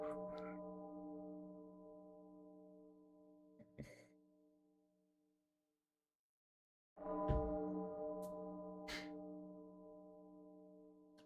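A London church bell ringing, two long resonant strikes separated by a few seconds of near silence, each fading slowly, with faint breathy sounds and a click between them.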